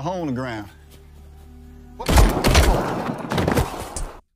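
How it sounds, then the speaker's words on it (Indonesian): Gunfire rings out in an action film as a gangster shoots a man: a dense, loud cluster of shots and impacts that follows a brief stretch of spoken narration. "ia pun langsung menembak Lazarus"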